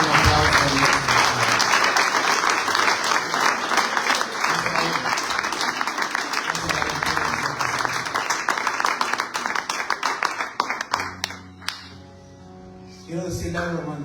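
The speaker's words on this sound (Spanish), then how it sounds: "Den un aplauso a Dios." Church congregation bursting into loud, sustained applause and clapping, dense and continuous for about eleven seconds before thinning out, with music and voices emerging near the end.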